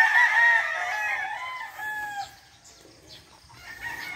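Roosters and chickens, including brood cocks, crow loudly and nearby. The drawn-out cock-a-doodle-doo is followed by softer clucking and scattered farmyard noise.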